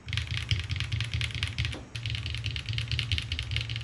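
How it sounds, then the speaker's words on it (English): Continuous rapid clicking and clacking of typing on an AJAZZ AC067 mechanical keyboard without its case foam, steady and close, with one brief pause midway and no voices. "The keyboard does get louder without the case foam as you'd expect"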